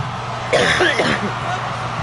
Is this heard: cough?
yes